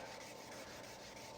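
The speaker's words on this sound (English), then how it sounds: "I'm just going to take my sandpaper and start sanding down the finish here" Sandpaper rubbing steadily over a wooden self bow to strip its old finish, a continuous close, even scratchy hiss with no pauses or voices.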